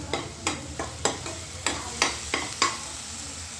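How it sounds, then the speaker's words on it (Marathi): Ginger garlic paste and masala fry in oil while a spoon taps and scrapes the pan in a steady series of sharp strokes over a low sizzle. "आता मसाला तेलामध्ये चांगला भाजू द्यायचा तेल सुटेपर्यंत"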